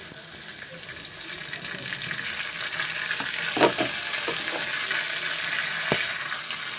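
Chopped tomatoes and green chillies hit a pan of cabbage curry with cumin, black pepper powder, salt and turmeric, with a few sharp clinks at the start, then a steady close sizzle and occasional stirring knocks.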